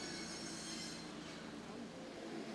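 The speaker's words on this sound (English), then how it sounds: "take a local Tokaido train to the next post station of Yoshiwara" A local Tokaido line train rolls near Hara, Japan, giving a faint, steady rumble and hiss of wheels on rails that is fairly distant and continuous.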